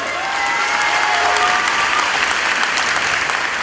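Sustained applause from a crowd, dense clapping that holds steady throughout, with faint cheering or a whistle mixed in.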